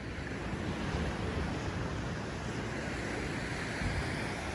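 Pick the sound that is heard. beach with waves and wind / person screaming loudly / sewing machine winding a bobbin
beach with waves and wind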